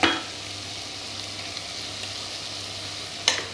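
Food sizzling steadily in a hot pan while bacon mac and cheese cooks, a continuous close frying hiss with a soft stir or clatter at the start and near the end.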